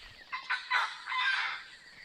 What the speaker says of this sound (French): Oh! Je crois que c'est des perroquets à race.